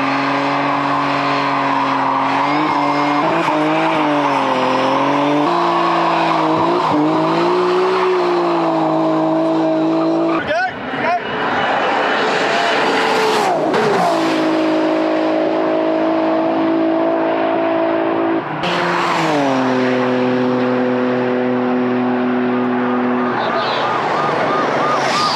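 A drift car's engine roars and revs continuously, rising and falling in pitch as its tires skid and squeal, loud and close throughout.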